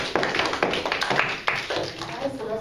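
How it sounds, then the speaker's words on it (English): A classroom of students claps for volunteers in a short burst of clapping and taps under a teacher's voice. "give an applause for our volunteers"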